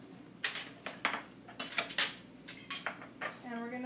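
Bread and butter plates and cutlery are set down on a formal dining table, making a series of bright clinks and clatters. The taps come at an uneven rhythm and close by, with a longer ringing chime at the end.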